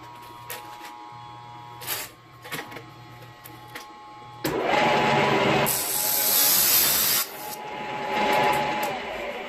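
An abrasive cutoff machine cuts through metal busway. A few short taps and rubs come first, then a loud, harsh grinding rasp takes over and surges to a high shriek before easing off.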